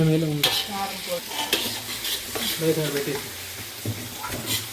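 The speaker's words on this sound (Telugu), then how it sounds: "ఆయిల్ ఎక్కువ వేసి. నీట్గా ఫ్రై అవ్వాలి." Rice stir-fries in plenty of oil for street-style fried rice, with steady sizzling and a metal spatula scraping and clanking against the pan in rhythmic strokes, close up, while a voice speaks faintly underneath.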